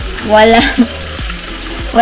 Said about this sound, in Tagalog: ito na ang ating tofu. So ayan, nagpiprito na tayo